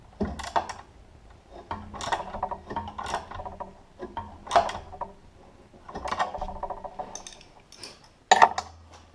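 A wrench tightens a bolt on an ATV mount for an Earthway spreader while pliers hold the bolt head, giving intermittent metallic clicks, scrapes and clanks in short bursts, close and moderately loud, with no talking.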